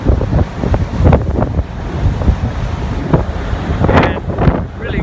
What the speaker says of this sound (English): And really windy out here.